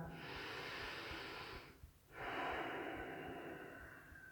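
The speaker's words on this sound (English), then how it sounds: "Let's do one more big breath" A deep yoga breath: a long, close airy inhale fills about two seconds, a brief pause follows, then a second sustained breathy exhale trails off gradually with no talk.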